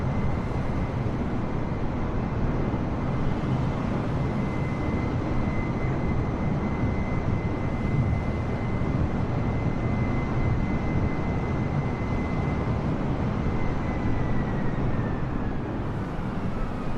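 An airliner rolling for takeoff on runway 23, a steady broadband engine roar with a sustained high whine holding at an even, loud level throughout.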